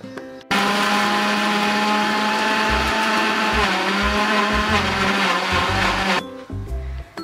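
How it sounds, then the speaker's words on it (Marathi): A mixer grinder grinding roasted peanuts whirs loudly for several seconds with a steady motor whine and rattling contents, then cuts off abruptly. "हे सर्व आपण मिक्सर मधून काढून घेऊयात"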